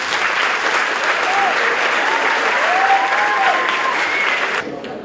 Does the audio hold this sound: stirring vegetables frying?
no